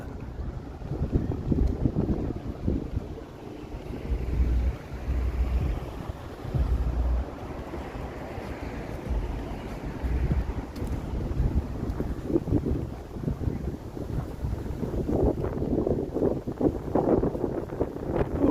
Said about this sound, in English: The wind, it's kicking up.